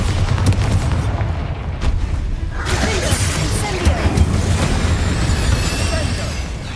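A Bombarda spell explosion in Hogwarts Legacy lands as a loud, dense boom about midway, breaking into a shattering crackle over steady rumbling game noise.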